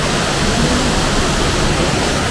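Waterfall at Shifen, Taiwan, a steady, loud, broadband roar of falling water filling the whole clip without a break.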